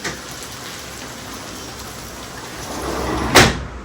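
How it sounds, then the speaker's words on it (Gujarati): Heavy monsoon rain pours steadily outside, a dense continuous hiss, broken near the end by a brief sharp knock like a door or cupboard. "અત્યારે જોરદાર ધમાકેદાર બેટિંગ કરે છે બહાર મેઘરાજા."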